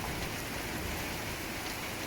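Heavy rain pours steadily during a thunderstorm, a dense, continuous wash of falling water with no breaks and no voices. It stays loud and close throughout.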